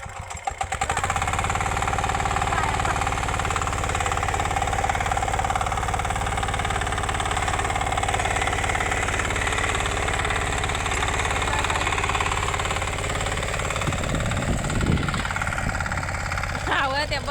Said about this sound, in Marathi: बघा, चालू झाला इंजिन